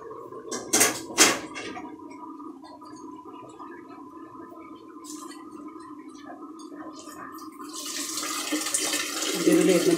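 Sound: water poured into couscous while cooking

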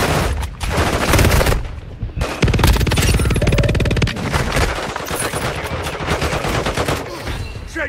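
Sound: gunfire in video game Warzone Mobile

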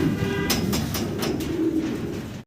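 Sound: Lahori pigeon, grey checker female

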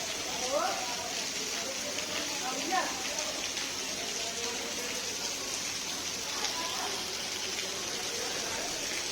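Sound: heavy rain during potato loading

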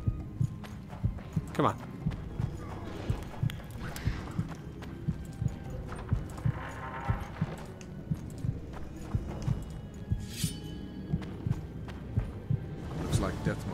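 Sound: horse Roach's hooves in the video game Witcher 2

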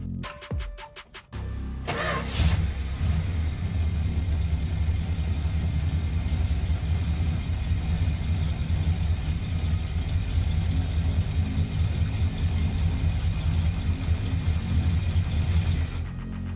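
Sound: 1967 Dodge Dart engine idling after carburetor conversion

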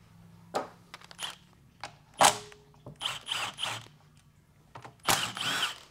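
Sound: 10 mm socket wrench removing 6L80E transmission pan bolts

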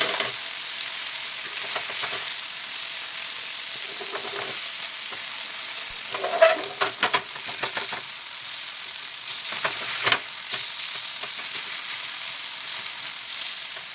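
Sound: cabbage rolls shallow-frying in oil in a pan

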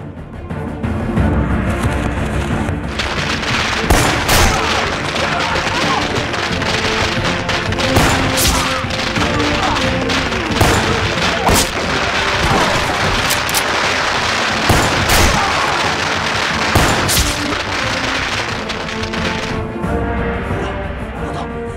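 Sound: firecrackers being set off

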